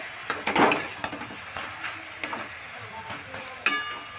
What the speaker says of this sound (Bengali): এবার আমি আবার নেড়ে দিচ্ছি শাকটা প্রায় কাছাকাছি হয়ে এসছে